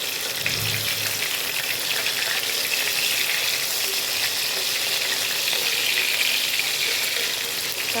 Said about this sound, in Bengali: এবার ভালো করে লাল করে ভেজে নিতে লাগবে।